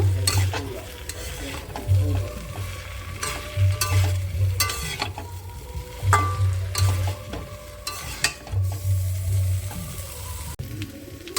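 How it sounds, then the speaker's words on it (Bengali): Potatoes and cauliflower coated in spice masala are stirred in a hot pan, with a loud, continuous sizzle broken by repeated scraping strokes and clattering spatula knocks in an uneven rhythm. No voices are heard. "আলু মশলার সাথে ভালো করে নাড়াচাড়া দিয়ে মিক্স করে নেব"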